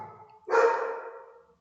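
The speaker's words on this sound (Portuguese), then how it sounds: "vocês estão ouvindo os meus cachorros latindo" A single dog bark, fairly close and sharp, after a brief faint sound, trailing off over about a second.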